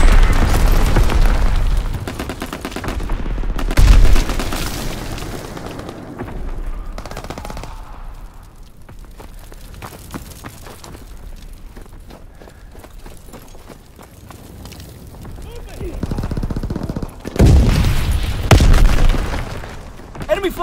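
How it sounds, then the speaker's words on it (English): Call of Duty WWII battle: heavy machine-gun bursts and rifle fire with booming mortar explosions, loud clusters early and near the end around a quieter middle stretch, with voices and battlefield callouts mixed in. "Enemy mortar fire incoming!"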